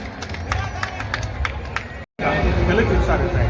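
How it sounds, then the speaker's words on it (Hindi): A large crowd claps at a fair gathering in Kanana during the Sheetla Mata fair, with dense, sustained applause and murmur. The sound cuts out briefly midway, then returns loud and continuous. "खूब खूब तालियों से स्वागत और अभिनंदन कर दीजिए।"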